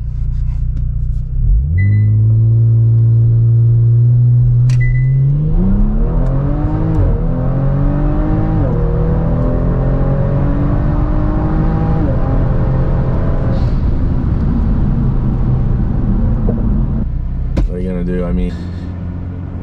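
A Kia Stinger GT with an MBRP cat-back exhaust, tuned with a JB4, revs repeatedly, its loud engine note climbing and holding through several close pulls before settling to an idle rumble, with a person talking over it.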